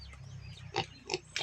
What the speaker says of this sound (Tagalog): karon guys magbaho kog baboy bago sa nakuna ang baboy ni Nining